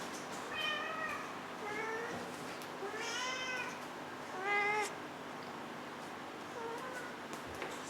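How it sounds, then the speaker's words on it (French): A domestic cat meows several times at close range, giving a series of short, rising and falling meows over a quiet indoor background, followed by a few seconds of near silence. "C'était un coucou du chat."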